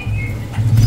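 A male cucak cungko songbird with a large body gives a thin, steady whistled call over a low background rumble at a bird market. The call is short and moderately close.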